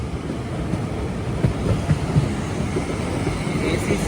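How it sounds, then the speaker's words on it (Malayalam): An express train on the Mysuru to Talguppa line pulls away from a station, with a continuous low rumble and soft wheel clicks building gradually, steady and close, with no voices. "ഇപ്പോൾ ഇതാ ഇവിടുന്ന് ട്രെയിൻ എടുക്കുവാണ്."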